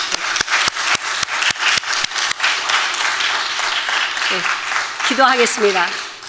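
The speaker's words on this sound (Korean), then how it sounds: "박수로 여호와 하나님께 올려드리겠습니다." A church congregation claps in unison, a run of sharp rhythmic claps that gives way to looser applause, with a voice speaking near the end.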